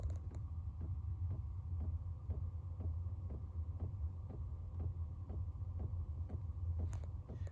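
A quiet diesel heater's pump and burner, a homemade design, running at minimum: a steady low hum with a regular soft ticking pulse, roughly two clicks per second, continuing evenly throughout.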